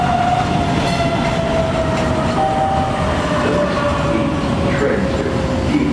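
A Boston subway train bound for Heath Street sits at a station platform, a steady loud rumble with a long sustained whine running through it, joined by faint crowd noise and murmuring voices.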